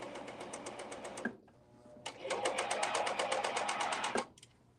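A serger runs on fabric with the differential feed engaged, giving two close, rapid, rhythmic bursts of mechanical stitching with a brief pause between them.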